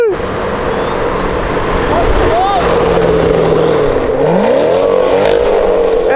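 A sports car engine revs up and down at close range, swelling and falling in loud sweeps against steady road and crowd noise, with people talking over it.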